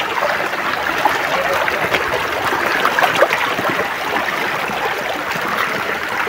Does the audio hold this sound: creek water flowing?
yes